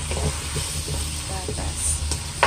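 Potatoes frying in a pan for a chopsuey stir-fry, making a loud, continuous sizzle with small scraping stirs throughout a short burst.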